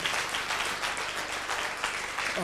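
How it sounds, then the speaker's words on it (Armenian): Dense, steady applause from guests at a 70th birthday celebration, many hands clapping at once at close range for the whole stretch without a break. "եկեք ծափահարենք բոլոր թորնիկներին"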